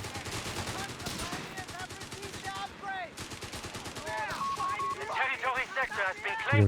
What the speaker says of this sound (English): There's a couple more small arm shots to penetrate.